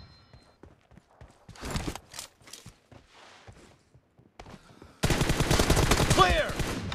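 Video game gunfire in a rapid burst of shots, loud and close, preceded by scattered quieter pops and footstep-like thuds.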